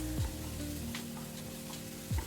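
Masala sizzling in a frying pan with chopped green chilli and curry leaves, a steady soft hiss stirred now and then, with a couple of brief scraping sweeps at the start and end.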